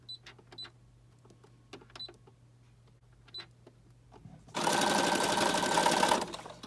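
A sewing machine stitches a zigzag across magazine paper: a few light clicks and ticks first, then a loud, rapid mechanical whirring burst of stitching lasting about two seconds before stopping.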